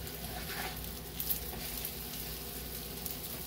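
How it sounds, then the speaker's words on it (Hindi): Potato-stuffed bread toast fries in a little oil on a pan, giving a steady close crackling sizzle with light spattering pops throughout and no talk. "इसको अब हम दोनों साइड से अच्छा क्रिस्पी होने तक सेकेंगे"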